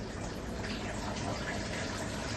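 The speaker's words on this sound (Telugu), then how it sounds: "మోటార్ ఆన్ చేస్తే చాలు మనకి వాటర్ ఇక్కడ సర్క్యులేషన్ అవుతుంది." A motor pumps water that circulates into a crab farming tub, a steady, loud rushing gush running unbroken throughout.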